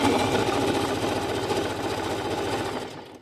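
A sewing machine runs fast and continuously, close up, its needle hammering in a rapid even rhythm while stitching a zigzag buttonhole, then stops abruptly at the end.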